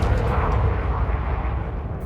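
Space combat in Elite: Dangerous, a Diamondback Explorer firing beam lasers and multi-cannons, heard as a dense, steady roar of weapon fire and rumble that stays loud throughout.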